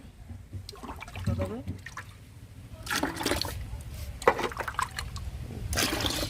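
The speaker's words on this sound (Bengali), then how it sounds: "আতপ চালগুলো সুন্দর করে ধুয়ে নিচ্ছে" Sun-dried rice being washed by hand in water for a home puja, with sloshing, splashing and trickling swirls under a voice talking nearby.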